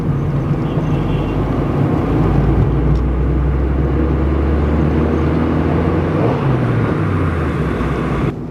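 Maruti Ertiga cruising on a highway, heard as a continuous loud in-cabin rumble of road and engine noise with a low steady hum throughout and a slight dip at the end.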